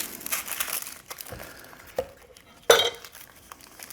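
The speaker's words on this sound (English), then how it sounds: "take this onion here, and I'm gonna go ahead and split it down the middle" A kitchen knife cuts an onion in half on a board for spicy turkey fried rice: scattered soft crinkles and handling noises, then one sharp, fairly close thunk as the blade hits the board, with a few quieter taps after.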